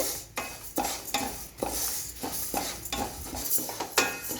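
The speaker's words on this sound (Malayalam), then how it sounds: "നന്നായൊന്ന് ഇളക്കി കൊടുക്കുക നന്നായിട്ട് ഇളക്കുന്നുണ്ട്" Spoon stirring lentil payasam, payar parippu pradhaman, as it browns in a pan, with repeated close scraping strokes in a steady rhythm and a light sizzle underneath throughout.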